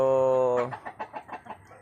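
Pet chickens kept at home after a typhoon: a drawn-out crowing call gives way to a rhythmic series of short, close clucks.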